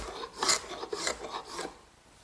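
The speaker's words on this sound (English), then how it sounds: "The glue for the top is now dry, and the excess is removed just using a hand scraper." A hand scraper rasps across a wooden tabletop, lifting dried glue in a few short, dry strokes close up, quiet and scratchy with no voices.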